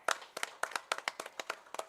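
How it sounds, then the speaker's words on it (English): A few people clap for an assistant high school football coach joining a coaches' radio show, sparse, distinct individual claps in an uneven rhythm, fairly quiet and close, with no talk over them. "Y'all give a round of applause to Coach Bell"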